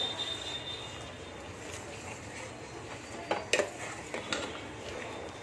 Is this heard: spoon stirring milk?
yes